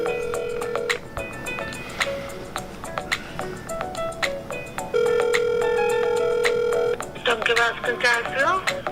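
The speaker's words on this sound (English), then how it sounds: "We're gonna call and let's put it on speaker." A phone call over a speakerphone: electronic tones and beeps, then repeated ringback tones, thin and tinny, with some background noise.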